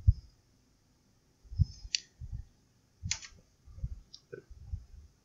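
Sparse key taps on a computer keyboard while a database table is being created, coming as a few faint scattered clicks with pauses between them and low background rumble.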